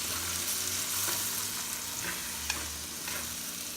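Liver marinade cooking in a frying pan, a steady broadband sizzle running throughout with faint stirring scrapes and a soft tap near the end, no voices.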